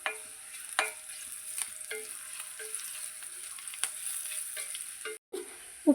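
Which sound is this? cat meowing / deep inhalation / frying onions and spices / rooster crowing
frying onions and spices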